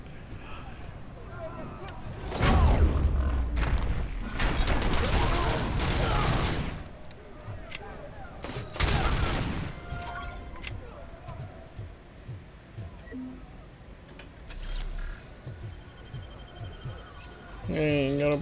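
Gunfire from the Auto 9 pistol in the RoboCop video game, rapid bursts of shots in several loud clusters with pauses between them, mixed with game effects while someone talks over much of it.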